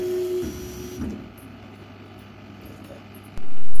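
A K40 laser cutter runs a job at 3 millimeters per second, giving a steady low mechanical hum with a brief higher whine at first, then a sudden loud rushing surge near the end.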